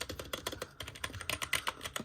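Quick, continuous key presses on a Keji RGB membrane gaming keyboard, each stroke a dull, cushioned tap in an even rhythm, close and alone.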